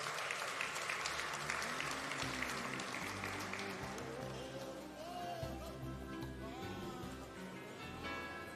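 Audience applause at an ANC presidential gala dinner, sustained dense clapping from a large crowd in a hall that fades gradually, with a few voices and faint tones underneath.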